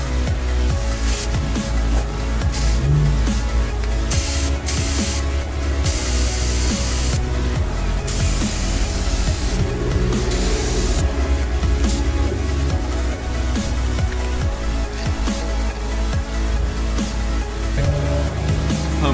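A steady hissing spray from a garden sprayer cooling a car's intercooler at an autocross event runs continuously, loud and close, with brief changes in intensity and no voices.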